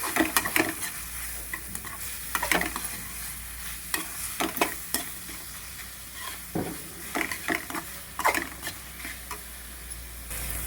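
Chilli powder, coriander, turmeric and cumin are stirred into a frying gongura egg curry: a spoon scrapes and knocks against the pan in irregular strokes over a quiet, steady sizzle.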